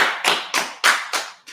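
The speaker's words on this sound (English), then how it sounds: "let's clap it up" Hand claps or taps land as six separate sharp hits about a third of a second apart, each one fading quickly, close and fairly loud with no voices.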